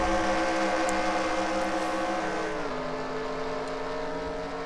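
A dense pack of race car engines drones steadily and loudly in the NASCAR Legends sim racing game at Texas World. The layered engine tones hold close and continuous, with a slight pitch drop partway through.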